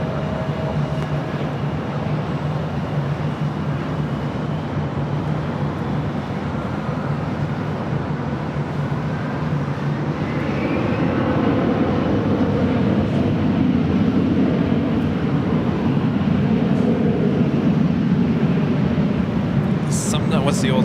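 A jet airliner taking off from runway 24 Left at LAX, a broad roar that builds and swells in the second half, heard from a distance beneath a low steady hum.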